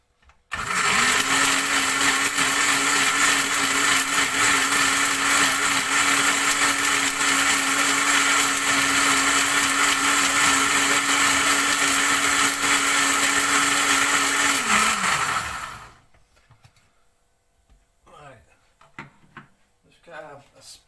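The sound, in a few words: blender blending banana blackcurrant muffin batter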